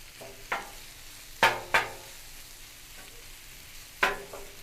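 Ground beef sizzles over onions on a Blackstone griddle while a spatula scrapes and chops it in several sharp, close strokes against the flat steel, with soft frying in between.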